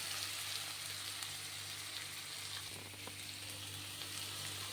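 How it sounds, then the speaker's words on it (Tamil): Finely chopped onions fry in a pan for a Tirunelveli sodhi kulambu, giving a steady, even sizzle with a low hum beneath, close but fairly quiet and without speech. "வெங்காயம் நல்லா வதங்கிடுச்சு பாருங்கள்."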